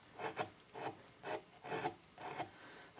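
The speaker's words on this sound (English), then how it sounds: "gouge I use for that. Kind of make short, deep strokes. Get that nice rough texture." A small hand gouge cuts short, deep texturing strokes into a carved wooden Santa snowman, a quiet, close rasping scrape repeated about six times in a steady rhythm.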